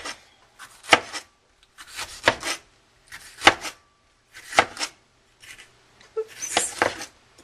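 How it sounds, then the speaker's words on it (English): Fresh ginger chopped with a knife on a cutting board: about seven separate bursts of close, crisp cutting and scraping, each followed by a short pause. "Now just chop it up."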